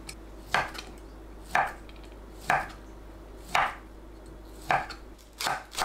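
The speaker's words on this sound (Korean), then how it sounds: "햄을 한 입 크기로 썰어줍니다." A knife chops ham into bite-size pieces on a cutting board for a braised tofu side dish, six crisp, evenly spaced thwacks about a second apart, close and clear with no talk.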